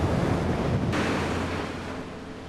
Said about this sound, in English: seeing the waves push and pull back and forth